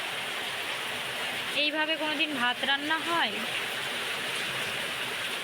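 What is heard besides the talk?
heavy rain with wind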